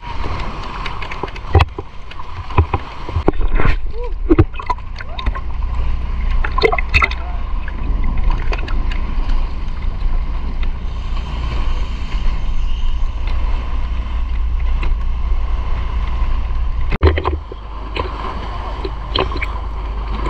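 Motorboat cruising on open water off El Nido, Palawan, a steady low engine drone with splashing and hull slap throughout, fairly loud and close, with brief voices now and then.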